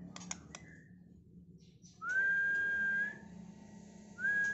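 A male murai batu (white-rumped shama) of Medan lineage, bred locally in Tulungagung, East Java, gives a couple of clear, sustained rising whistles after a few brief clicks, close and loud against a quiet background.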